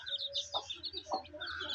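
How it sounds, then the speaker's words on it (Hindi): A hen on a poultry farm gives soft, short clucks among her newly hatched chicks, whose high, thin peeps repeat rapidly throughout, close and fairly quiet. "और ये मुर्गी बिल्कुल आपके सामने माशाल्लाह जी माशाल्लाह।"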